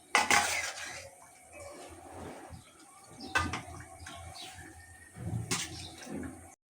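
Stirring rohu fish head with lentils in a pot, scattered metallic scrapes and clinks of a spoon against the vessel, moderately close, with faint background noise.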